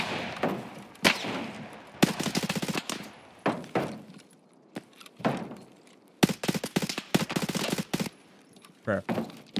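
Gunfire in the shooter game Escape From Tarkov crackles in sharp repeated bursts, some rapid automatic strings and some single loud shots, spread across the stretch with short pauses between volleys.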